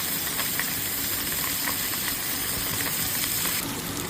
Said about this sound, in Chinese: 必须要小火慢煎